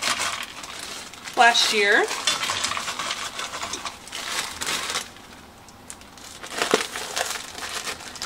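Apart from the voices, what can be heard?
frozen chopped garden green peppers added to a dish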